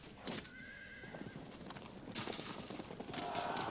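Horses neigh and hooves clip-clop in a Field of Glory II battle with nomad light horse archers; a clear whinny opens, then steady hoofbeats and further neighing run under game battle noise, with no talk.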